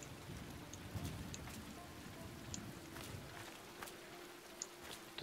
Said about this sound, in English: Come on, let's wait out the rain in the booth.